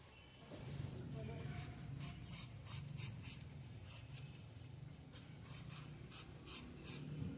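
A papaya being peeled slowly by hand, giving a run of short, rhythmic scraping strokes close by, heard under a person talking throughout.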